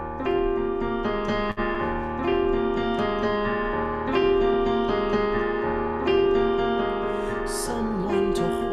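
The opening music of a song from the Broadway musical Company plays as a steady instrumental passage, with sustained tones and phrases repeating in a regular pulse, moderately quiet and free of voices.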